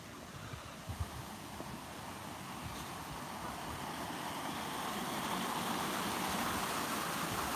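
Steady broadband rush of water from a waterfall outdoors on a walk in Blackburn, faint and continuous, gradually growing a little louder, with a few soft bumps early on and no talk.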